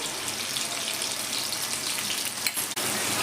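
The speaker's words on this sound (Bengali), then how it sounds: "আলুটাকে আমি একদম লাল লাল করে ভেজে নেব।" Diced potato pieces, salted and with turmeric, fry in oil over high flame for muri ghonto. A steady, fairly soft sizzle runs throughout, with a brief clatter near the end.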